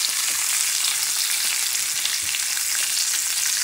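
A bison tomahawk ribeye steak searing in cast iron, producing a loud, dense, unbroken sizzle that stays close and even throughout.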